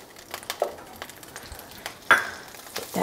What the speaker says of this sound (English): I'm gonna add 2 tablespoons of butter.